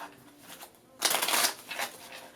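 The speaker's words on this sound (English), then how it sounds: "Shuffle your cards again 5 times." A deck of cards being shuffled up close, a quick riffling flutter that swells for half a second and then trails off with lighter rustles.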